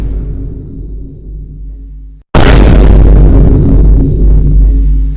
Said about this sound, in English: Second shot of a burst rips a hole through space-time, doing high damage and recoil with no fall-off